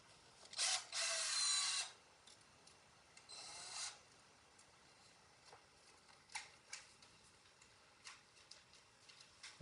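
A power drill on a low setting drives a screw into a part of a Prusa Core One+ 3D printer during assembly, giving two short whirring bursts and then faint ticks and clicks.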